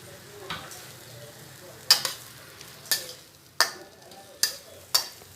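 Torn parotta for egg kothu parotta being sautéed and mixed on a pan under a soft, steady sizzle, with about six sharp metallic spatula knocks at a regular pace and no voices.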